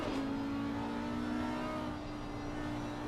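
A race car in Assetto Corsa Competizione drones steadily on the Barcelona circuit as it brakes and shifts down into second gear, a constant engine tone with a slight drop in pitch partway through.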